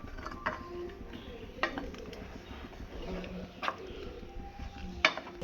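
Sago for Onam payasam is stirred in a pot, with soft scraping and occasional light metallic clinks of the spoon against the pot, fairly quiet and close.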